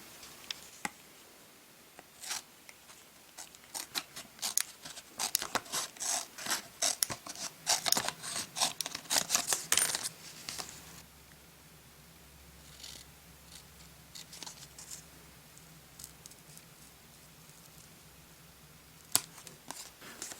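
Scissors snip around a lacquered sticker for a vintage Star Wars R5-D4 toy restoration, making a dense burst of quick, close little cuts that thins to scattered faint clicks and snips.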